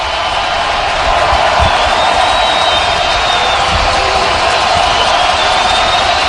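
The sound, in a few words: stadium crowd noise rising at NFL game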